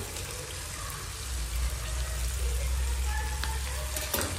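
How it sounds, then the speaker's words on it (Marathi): Two eggs dropped into a hot pan with cabbage, salt and black pepper, a steady low sizzle of frying that rises and holds, with faint stirring clinks. "आता याच्यामध्ये 2 अंडी टाकायचे"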